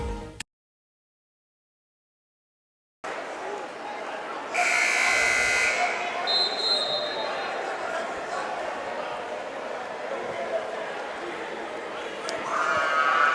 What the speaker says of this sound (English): Buzzer beater by Jesse Jones.